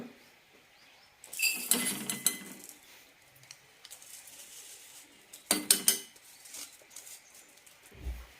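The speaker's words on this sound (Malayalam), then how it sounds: "ഇനി പരിപ്പ് വറുത്തെടുക്കാം." Moong dal being dry-roasted and stirred in a pan, heard as two short bursts of scraping and rattling grains against metal separated by quieter stretches, with no talk.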